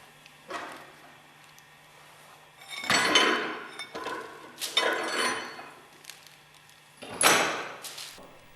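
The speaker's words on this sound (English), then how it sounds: "Force the centrifugal clutch off the motor shaft end by turning the eye bolt clockwise." Metallic clanks and scraping bursts as a wrench turns an eye bolt to force the centrifugal clutch off the motor shaft end of a Westfalia purifier, four loud knocks spaced apart over a faint steady hum.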